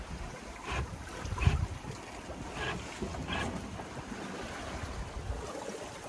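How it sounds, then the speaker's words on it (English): A small sailboat crossing the Atlantic alone runs in about 12 knots of wind, with soft rushing air, gusty microphone buffeting and faint water sloshing against the hull, quiet and steady. "about 12 knots of wind, making good time straight to our destination."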